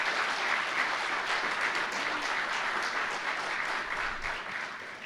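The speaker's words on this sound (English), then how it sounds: "Let's give a round of applause to our student pilots who have ceremonially brought in our DA-40 fleet" Audience at an MTSU aerospace facility groundbreaking ceremony applauds student pilots who brought in a DA-40 aircraft fleet, a steady dense wash of clapping held at even volume throughout with no talk over it.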